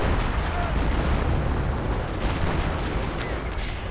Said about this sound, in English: Grenades getting lobbed. Assault grenades.